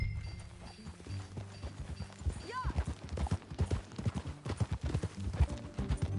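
Rhythmic hoof clip-clop of a galloping horse in Red Dead Redemption, steady and close, mixed with game music and a brief whinny-like tone.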